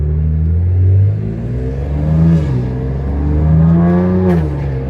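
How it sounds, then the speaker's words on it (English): A loud, deep catless exhaust on a 600hp BMW X3 M rumbles and roars close by, swelling in a few revs before settling back to a throaty idle. "Get a little bit of more exhaust sounds."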